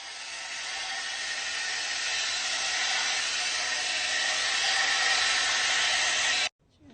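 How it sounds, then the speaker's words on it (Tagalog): A hair dryer blows steadily with a loud, even rushing hiss for several seconds, then cuts off abruptly near the end. "Dito na tayo mag-blower sa labas kasi para hindi maingay."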